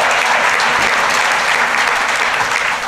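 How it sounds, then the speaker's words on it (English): A banquet audience claps steadily and loudly for a few seconds, dense applause with no voices over it. "It's all right, you can clap."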